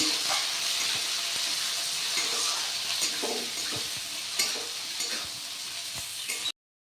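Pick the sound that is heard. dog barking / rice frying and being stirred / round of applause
rice frying and being stirred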